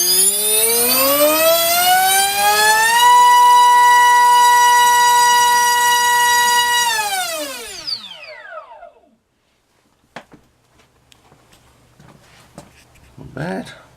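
RC brushless motor on a thrust test stand spinning a 4.5x4.5 TGS propeller: a loud, rising whine holds at a steady high pitch for several seconds, then spins down, followed by faint clicks and brief talk.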